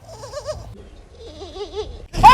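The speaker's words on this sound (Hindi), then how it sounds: "यहाँ बकरी के छोटे छोटे बच्चे हैं।" Baby goats bleating in two wavering, quavering calls, one after another, close and fairly loud, followed by a burst of louder noise and a squeak at the end.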